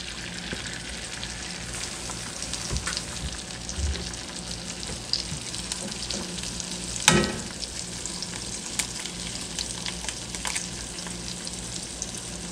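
Eggs cracked into a hot pan over lowered heat, already sizzling with other ingredients, fry with a steady crackling hiss throughout, one brief louder pop and spatter standing out near the middle.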